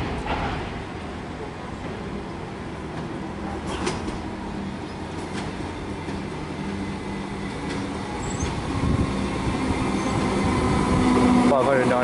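A Melbourne suburban train pulls out of the station, a rumbling rolling noise that slowly builds with faint rail squeals near the end, under station ambience and someone speaking.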